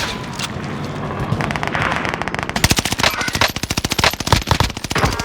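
Rapid automatic gunfire in Call of Duty Warzone, a loud, dense stream of sharp shots that starts sparse and builds into sustained bursts, close and dominant with no voices over it.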